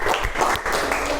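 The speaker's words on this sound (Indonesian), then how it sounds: "Tepuk tangan untuk kelompok Mbak Kartika" A classroom group claps briefly for another group of students, a short dense burst of hand clapping close by, alone without talk.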